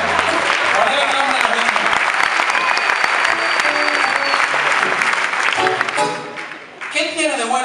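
A theatre audience at a murga performance claps loudly and steadily for several seconds. The applause fades near the end, and a performer's voice follows it.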